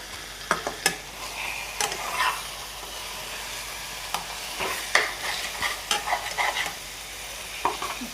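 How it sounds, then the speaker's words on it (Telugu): Spoon stirring fish curry with tomatoes in a frying pan, a soft steady sizzle broken by scattered scrapes and clinks of the utensil against the pan, close up with no talk. "ముక్కలు ఎరగకుండా కలుపుకోవాలి."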